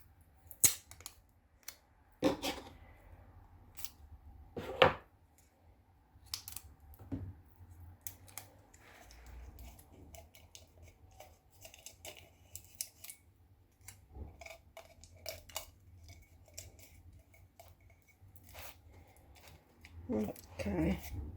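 Scissors snipping a small piece of tape during mug sublimation crafting, a few sharp, faint cuts and clicks spread through a quiet tabletop scene with occasional soft handling noises.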